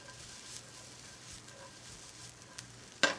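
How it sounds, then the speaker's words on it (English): Garlic sizzles in a pan with a steady, quiet frying hiss, broken by a brief stirring scrape and a sharper clatter near the end. "You hear the sizzle?"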